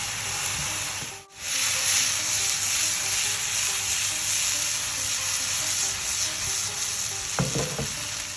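Vegetables stir-fry over a medium-high flame, a loud continuous sizzle and hiss close by, with a brief scrape of stirring near the end.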